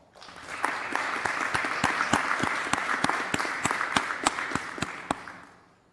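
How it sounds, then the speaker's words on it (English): An audience at an ROTC ceremony bursts into sustained applause, dense crisp claps holding steady for several seconds before tapering off at the end. "Please give them all a round of applause."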